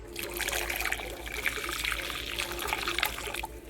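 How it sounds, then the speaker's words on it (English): Boiling water pours steadily into orange Jell-O powder, a continuous close trickling, splashing stream running the full few seconds without a break. "I'm gonna add it 1 cup of boiling water"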